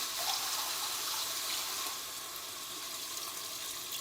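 Water poured into a cooking pot of tomato-based pasta sauce, a steady hissing, splashing stream running continuously and close by, easing slightly in level partway through.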